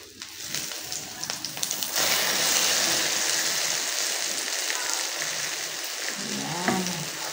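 Eggplant omelettes fry in a pan with pork tocino nearby, a dense steady sizzle that swells and holds, with a few scraping clatters as the omelettes are flipped.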